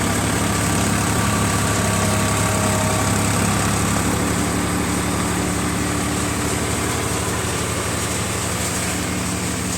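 A tractor with about 692 hours on it runs a Param basket-model thresher at night on a mustard harvest. It gives a steady, loud, close engine drone with a low mechanical hum that holds unbroken throughout, with no talking.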